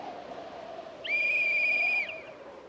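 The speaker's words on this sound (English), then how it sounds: "I'm just gonna whistle and get them all." A character in the Project Zomboid video game whistles one clear, sustained note lasting about a second over a low ambient drone, with no speech.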